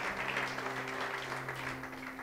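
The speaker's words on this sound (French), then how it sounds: "Can we clap for the choir?" An audience applauding a choir at a worship gathering, a dense patter of many hands clapping steadily at moderate volume, with a faint sustained tone underneath.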